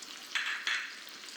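Spices with turmeric sautéing in a pan for Chettinad fish curry, a soft steady sizzle with two brief louder bursts as the pan is stirred, alone and fairly quiet.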